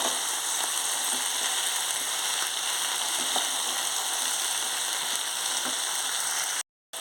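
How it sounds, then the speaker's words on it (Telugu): Potatoes and tomatoes are stirred in a hot pan for a village-style brinjal and potato gravy curry, producing a dense, even sizzle with faint scraping throughout that cuts out briefly near the end. "పొటాటోస్ వేసుకోవాలి టమాటీలు కూడా వేసుకోవాలి ఒకసారి బాగా కలుపుకోవాలి"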